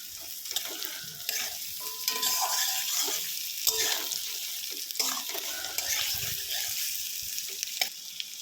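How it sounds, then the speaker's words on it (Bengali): Onion and garlic fry with potatoes in a pan for a fish dish, giving a continuous close sizzle broken by frequent stirring scrapes and utensil taps. "এবার আমি এর মধ্যে রসুন কোচানোটাকে দিয়ে দেব"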